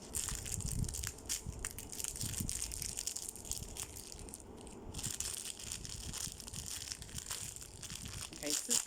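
Plastic packaging around a clothing haul item is cut open, giving continuous close crinkling and crunching of plastic with rustle throughout, and speech briefly present alongside.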